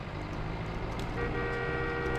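A tractor engine in Far Cry 5 giving a steady, car-like drone with a faint horn-like tonal layer, continuous and fairly loud throughout, with no talking.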